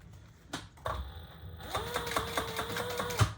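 A sewing machine stitches a leather pouch case, starting after a couple of clunks and then running in a fast, steady mechanical whirr and tapping rhythm, close and moderately quiet.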